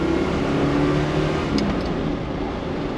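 A Chevrolet Chevelle SS muscle car under throttle, its engine a loud, steady roar with a droning tone heard from inside the cabin for the whole stretch, no voices over it.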